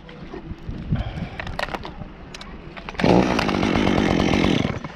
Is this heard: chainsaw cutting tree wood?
yes